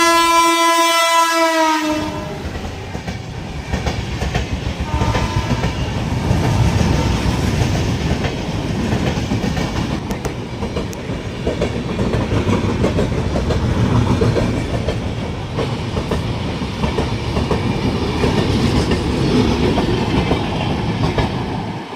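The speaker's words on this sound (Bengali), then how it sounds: "ট্রেনটা এরপর ক্রস করবে।" The Howrah-Bikaner Express passes a station platform in India, opening with a loud drawn-out horn blast, then heavy rumbling and rhythmic clatter of wheels over rail joints as the coaches roll by close, continuing steadily to the end.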